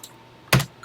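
A single sharp keystroke on a computer keyboard lands near mid-clip, close and crisp, with a fainter key tap at the very start and another at the end, no voices.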